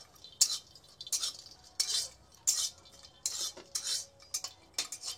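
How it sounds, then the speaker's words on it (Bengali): Four almonds, two raisins and two cardamom pods get stirred in a very hot dry wok, a metal spoon scraping and clinking against the pan in repeated quick strokes, close and fairly quiet with brief gaps between. "শুকনো কড়াইতে ভেজে নিচ্ছি"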